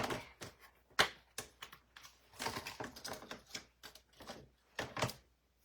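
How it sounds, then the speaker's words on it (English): A Stamp and Cut mini machine feeds a stamped paper lobster through, making irregular sharp clicks and clunks, some clustered in quick bursts and others isolated, heard close and fairly quiet. "now let's run through our lobster really quick with our Stamp and Cut mini"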